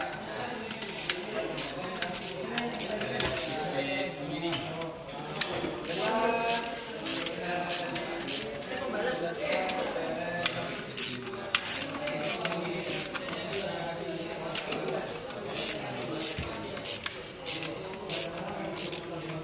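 A wrench loosens bolts on the single-piston floating disc brake of a motorcycle. Close metallic clicks and clanks repeat steadily and irregularly throughout, with a voice talking at times.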